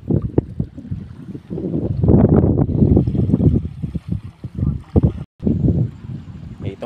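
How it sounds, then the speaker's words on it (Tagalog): Strong wind buffets a small fishing boat out at sea, producing loud gusty rumbling against the microphone with splashing, while someone speaks briefly over it. "Mahangin na."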